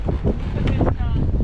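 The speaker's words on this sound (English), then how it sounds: "it is super windy right now." Strong gusty wind sweeps across a bayside campground at Rehoboth Bay. It buffets the microphone with a loud, constant roar, and a voice is faintly heard beneath it.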